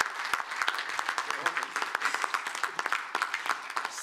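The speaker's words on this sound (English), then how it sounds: "So maybe perhaps a round of applause for all these ladies" Audience at an Islamic capital markets conference applauds the women being honoured, a dense run of many hands clapping at moderate level, with sharp individual claps standing out throughout.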